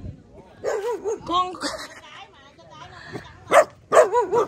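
Dogs bark and yip in short bursts at a rural home in the Mekong Delta area of Long An, mixed with close voices talking over them, the loudest barks coming near the end.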